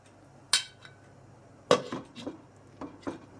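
Lid set onto a cooking pot of simmering egg curry: a sharp metallic clink, then a second clattering knock with a few lighter rattles as it settles, close and distinct over a quiet kitchen.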